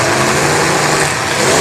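Race cars roar loudly and continuously through a demolition derby track, their engines straining and revving close by without any break or voices.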